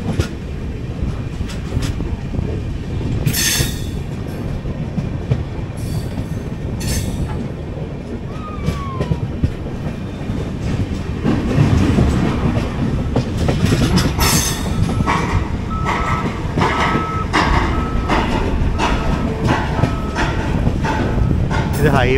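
The Shirdi Mysuru Weekly Express runs on the rails with loud rhythmic clickety-clack, rumbling carriages and occasional wheel squeals. The sound is close and sustained, with faint voices in the background.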